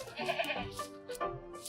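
A few short, close bleats from a toy sheep in a farm diorama scene, broken by brief pauses.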